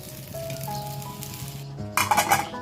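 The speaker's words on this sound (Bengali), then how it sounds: "চপগুলো ঠান্ডা হয়ে গেছে বলে একটু কড়াইতে গরম করে নিচ্ছি" Croquettes reheating in a frying pan, sizzling with light metallic clinks and a steady background hum, growing louder and more crackly toward the end.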